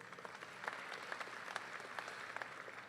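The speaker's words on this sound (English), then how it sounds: "Let's give a heartfelt round of applause to these dedicated individuals" An audience at a college honor society event claps continuously, a steady dense patter of many hands heard from a distance, fairly quiet and without talk.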